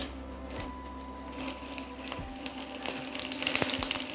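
A whole unpeeled garlic clove dropped into a pan of frying potatoes, giving a steady soft sizzle with faint crackles and a few light knocks, fairly quiet throughout.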